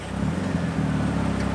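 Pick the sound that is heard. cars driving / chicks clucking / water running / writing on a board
cars driving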